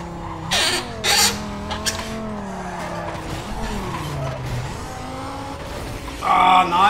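Race car engine revving with repeated tire squeals and skids in Need for Speed Carbon, loud and close, the engine pitch rising and falling between bursts of squealing.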